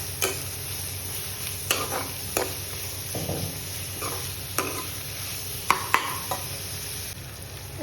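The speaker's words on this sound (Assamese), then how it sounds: "আপোনালোকক ইয়াতে কলডিলখিনি মিলাই অলপ সময় ফ্ৰাই কৰিম" Chopped banana flower stirred and fried in a pan, a steady sizzle with repeated spatula scrapes and clacks against the metal, close and fairly quiet, no voices.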